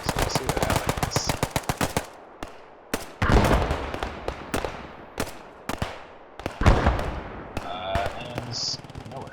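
Light mortar rounds fire and burst in the World War II tactics game Operation Whirlwind, mixed with a fast clatter of machine-gun fire at first, then scattered sharp loud cracks and booms, some near and some farther off.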